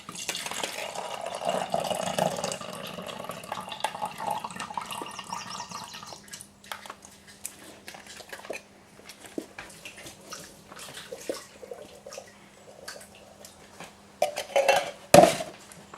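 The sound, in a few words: draining corn in a sink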